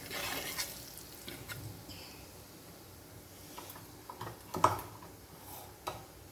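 A spoon stirring fish curry with homemade masala in a pan: soft scraping and sizzling with scattered clinks against the pan, faint and close, loudest in brief bursts near the end.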